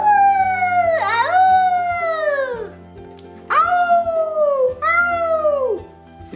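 A voice imitates a wolf howl, long rising-and-falling wails repeated three times, close and loud, slightly cat-like.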